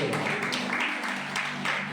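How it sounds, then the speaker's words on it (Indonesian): Church congregation clapping during a Sunday worship service, a thick continuous wash of applause with a low hum underneath, fairly faint. "Sekali lagi yang setuju tepuk tangan bagi Allah"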